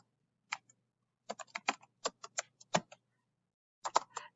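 A date being typed on a computer keyboard, close and quiet, with a short tap, then a quick run of irregular keystrokes, a pause and a final cluster of taps, no voices.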